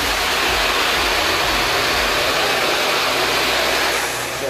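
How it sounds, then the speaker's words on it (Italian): A Vorwerk Folletto VK150 vacuum cleaner runs at maximum speed, a loud, steady broadband rushing roar that holds evenly up close and eases off slightly at the very end. "già questa velocità aspira tutto, si aumenta alla velocità massima,"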